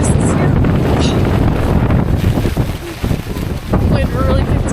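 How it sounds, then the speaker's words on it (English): Strong wind buffets the microphone at Dynjandi waterfall in Iceland, a loud, continuous roar with gusty swells that dip briefly near the middle, with faint murmurs of people in the background. "Wind really picked up."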